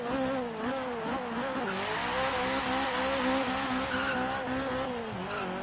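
A nearly stock Scion FR-S, also sold as the Toyota GT86, in the racing game Forza Horizon 3, its engine droning loud and steady, pitch rising and dipping with throttle changes, with no talking.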